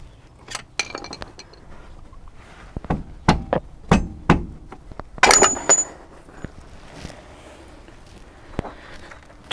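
A hammer taps out a bolt on the top mount of a car with a snapped coil spring: a string of sharp metallic clinks and knocks at uneven intervals, close and fairly loud against a quiet workshop background.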